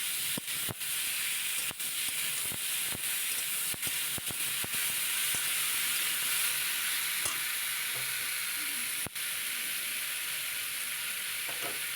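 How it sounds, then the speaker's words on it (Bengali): Apples cooking in a pan for chutney, a loud steady sizzle and hiss with a few sharp stirring clicks and taps scattered through, no talking. "এবার আপেলগুলো দিয়ে দিলাম আপেলটা দিয়ে আরেকটু নেড়ে নেব"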